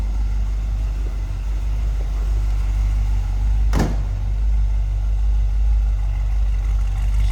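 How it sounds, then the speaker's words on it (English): Low, steady exhaust rumble from the 350 V8 of a 1977 Chevrolet Corvette Coupe idling nearby, a continuous deep drone with one sharp click partway through. "Nice sounding exhaust, little rumble coming out of that 350."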